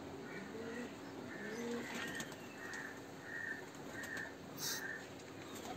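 Pigeons coo in a loft, soft repeated rhythmic coos rising and falling in a steady cycle, with a faint chirp or two over a constant hum of background noise and no talking.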